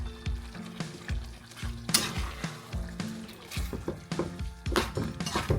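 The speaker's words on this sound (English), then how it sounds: "And then let's add the carrots." Carrots sizzle in a hot pan while being stir-fried with vermicelli noodles, with repeated rhythmic scrapes and clinks of a spatula against the pan over a steady frying hiss.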